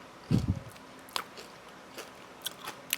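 Someone bites into a crunchy homemade pistachio treat, one close crunch followed by softer chewing crackles and a few small crisp snaps, fairly quiet with no speech.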